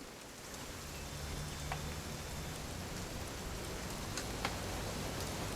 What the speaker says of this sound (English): That's rain actually